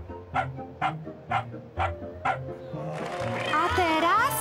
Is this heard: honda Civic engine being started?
no